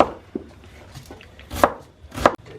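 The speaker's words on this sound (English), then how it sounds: "Now we're chopping the onion." An onion being chopped at home with a knife on a cutting board while cooking palak paneer: a few sharp, close chopping strikes at an uneven pace, with no talking.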